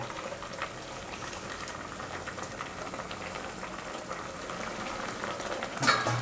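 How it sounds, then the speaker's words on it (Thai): A Thai curry with melientha leaves and grilled fish boils in a pot, giving a steady, close bubbling and simmering hiss that runs throughout, with a small clatter near the end. "ก็เดี๋ยวตั้งแบบนี้สักคู่นะครับ ให้ผักหวานสุก"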